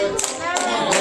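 Church congregation clapping in three short bursts of applause, a quick scattered patter of hands close by and fairly loud.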